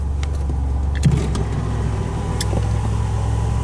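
Aftermarket high-flow electric radiator cooling fans on a DeLorean hum in a constant low drone, slightly higher-pitched than stock fans, with a few light clicks and taps scattered over the top.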